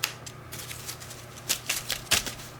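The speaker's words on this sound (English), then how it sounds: "why is she shuffling like that?" Tarot cards shuffled by hand, with repeated crisp riffling bursts and snaps of cards popping loose, moderately close and with no talk over them.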